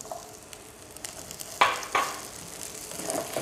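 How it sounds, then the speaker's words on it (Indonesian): Onions fry in a pan with a quiet sizzle, broken by a few sharp clatters of stirring, likely utensil against pan, and the hiss swells slightly near the end. "Terus saya masukin dulu sebagian dari bombaynya biar dia harum"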